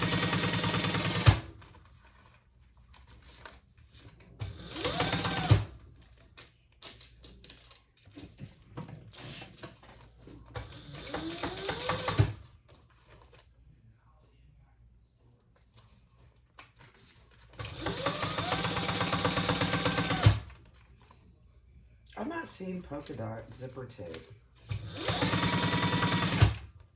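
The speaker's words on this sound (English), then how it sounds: "I'm gonna just do my top stitching next to my zipper first." Bursts of a sewing machine top stitching next to a zipper, several runs of rapid steady needle clatter separated by pauses, with a voice speaking briefly between them.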